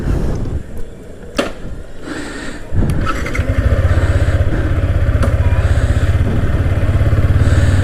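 Motorcycle engine on a highway at night, idling and then settling into a steady, loud running rumble after a few clatters and scrapes near the start.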